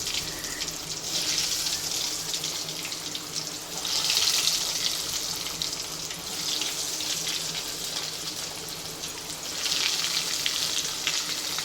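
Chicken cheese balls frying in oil on a low flame, a continuous soft sizzle and crackle that swells in louder waves every few seconds, heard close with no talking.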